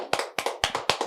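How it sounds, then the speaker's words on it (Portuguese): Four sharp hand claps in a slow, even rhythm, close and fairly loud, with no voices. "uma salva de palmas para o Gustavo."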